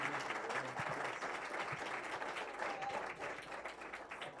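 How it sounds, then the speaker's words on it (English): Audience applause for Olga at an auction college graduation, a steady wash of clapping from a modest crowd, moderately loud, continuing evenly throughout. "How about a round of applause for Olga?"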